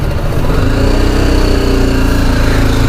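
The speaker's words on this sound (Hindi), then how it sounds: "आगे से गाड़ियाँ आ रही हैं" Loud, steady engine drone from motor vehicles on a rough off-road mountain route near a waterfall and water crossing in Spiti Valley, running continuously and close.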